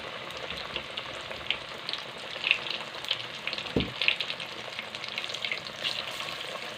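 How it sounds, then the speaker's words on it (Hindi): Potato cutlets frying in ghee for aloo chaat produce a bright, continuous sizzle with scattered pops and crackles and one dull knock partway through, close and steady, with no speech. "ये शामिल करते जाऊंगा और इनको हम तल लेंगे घी में।"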